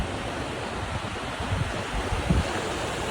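Water rushes steadily among snowy mountains, a broad continuous roar that is close and even, with slight low surges and wind-like texture throughout.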